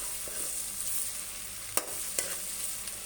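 Onions and tomatoes sauté in a pan for a salna, giving a steady close sizzle with soft stirring and two sharp spatula taps against the pan.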